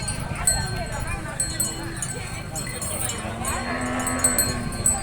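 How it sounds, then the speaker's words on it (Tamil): Cattle moo at a temple cow worship ceremony, low calls rising out of a busy crowd with people talking throughout and occasional bell and hoof sounds nearby. "மாடு கிட்ட இருந்து மிரளாது"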